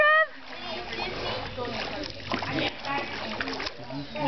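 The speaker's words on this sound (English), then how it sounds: "Swim, Trev." A young child swims and splashes in water, with choppy, irregular splashing close by as an adult calls out encouragement over it.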